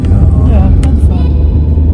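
A car drives along the narrow roads of Madeira, giving a steady loud low engine rumble and road noise, heard from inside the car.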